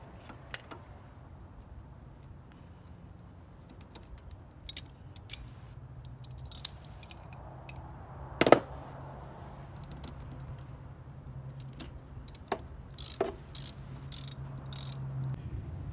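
A ratchet tightens a terminal while a car battery is reconnected after an alternator change on a Toyota, giving quiet bursts of close clicking with scattered metallic taps and clinks in a hushed space.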